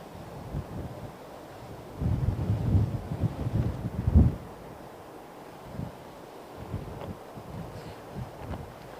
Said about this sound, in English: Okay, a little bit of wind.